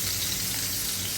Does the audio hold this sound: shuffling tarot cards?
no